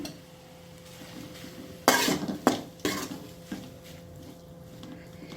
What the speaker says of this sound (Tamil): இதில் சேர்த்து மிக்ஸ் பண்ணிகிட்ருக்கேன்